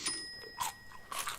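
A quick crunchy bite into a breaded chicken nugget, with brittle crackling bursts of chewing close to the mic and a faint steady tone in the background.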